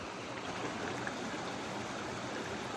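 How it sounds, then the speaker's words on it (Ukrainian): Steady rushing of a clear mountain river high in the Carpathians, broad continuous water noise with no pauses, close and fairly loud throughout. "Підійшли до гірської річки."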